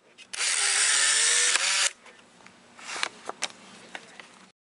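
The motor and rollers of a Polaroid SX-70 instant camera whir loudly for about a second and a half during a repair test, then stop, followed by a few light mechanical clicks and taps.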